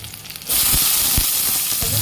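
Curry leaves and ingredients for coriander chutney hit hot oil in a pan with a sudden loud sizzle that keeps going, under a few soft stirring knocks.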